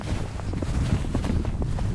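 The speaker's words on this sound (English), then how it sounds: "It's getting really windy." Strong gusts buffet the microphone outdoors during a California blizzard, producing a steady rough roar with low rumbling throughout.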